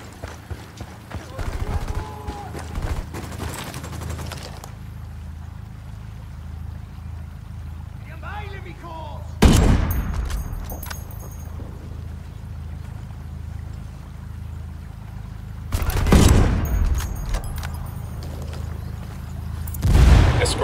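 Heavy gunfire and blasts destroy a vehicle in the video game Ghost Recon Wildlands: two loud, sharp bursts roughly six seconds apart, each trailing off over a steady low rumble of game ambience.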